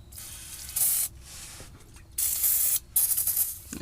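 A nearly empty aerosol spray can, held upside down, gives a few loud hissing bursts of about a second each, with brief pauses between, close by and heard alone.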